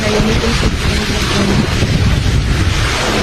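Super Typhoon Uwan lashes Verac, Catanduanes with strong wind and rain, a loud, unbroken roar of gusts buffeting the microphone and rushing rain, with no voices.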